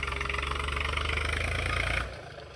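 A New Holland 3032 tractor engine drones steadily while pulling a 14-tine harrow through a field, loud and close, then eases down to a lower rumble near the end.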